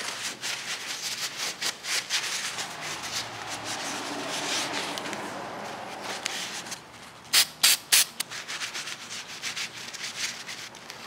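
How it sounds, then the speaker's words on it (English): Repeated rubbing and scrubbing strokes of a paper towel wiping paint off a pumpkin, rhythmic and close, with a few sharper rustles toward the end. "Grab your paper towels and start wiping it off"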